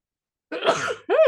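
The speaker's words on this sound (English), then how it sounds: "I'm about to sneeze. There's a sneeze on deck." A single sneeze-like burst, loud and close, with a short voiced tail, quickly followed by a second brief vocal sound.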